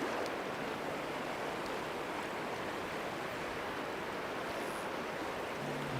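Constant rushing of a river flowing around a midstream rock during fly fishing, a steady broadband wash close by with no talk.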